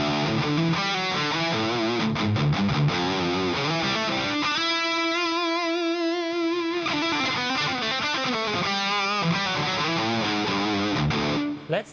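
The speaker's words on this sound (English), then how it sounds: "Okay, now let's switch to the lead channel. Now this is the Soldano," Heavily distorted electric guitar through a Soldano lead-channel emulation on a Two Notes ReVolt preamp, playing sustained lead notes and chords with a long held bend in the middle, loud and alone before cutting off abruptly.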